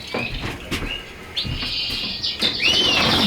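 Border canary hens in a birdroom giving short scattered chirps and tweets, some brief high calls and a rising whistle near the end, close by over a busy background of rustling and wing movement.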